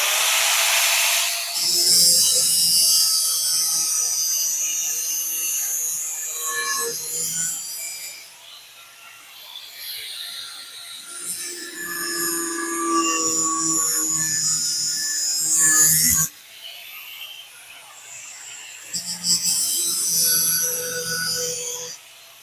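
Grinding wheel shaping a metal hollowing cutter, a harsh high-pitched grinding that rises and falls in bursts with brief pauses as the piece is pressed against the small wheel, close and loud.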